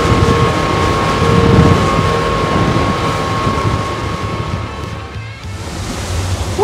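A World Cat 235TE catamaran runs at full throttle across bumpy seas, its engine roar blending with loud rushing wind and the slap and spray of waves against the hull, with no talking.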